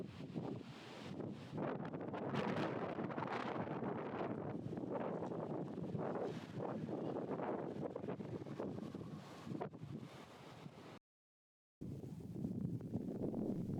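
Strong wind buffets the microphone on a canyon rim in a Texas park, a loud rumbling roar with gusting swells that continues almost unbroken apart from a brief gap.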